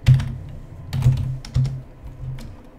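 Computer keyboard typing in Roblox Studio: three or four short bursts of close, crisp key clicks with brief pauses between them, no voice.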